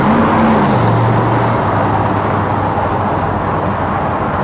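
A 1957 Ford Thunderbird roadster accelerating on the road, its engine tone climbing through a gear then settling into a loud, steady drone with road and wind noise.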